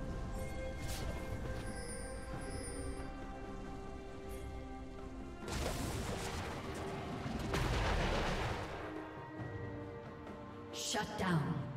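League of Legends match with combat effects and a turret being destroyed: dense layered game sounds, bursts of crackling impacts and booming blasts over a steady musical background, with an announcer voice.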